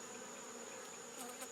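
Honeybees in a hive built inside a propane tank make a dense, steady, quiet buzzing hum with no pauses and no voices.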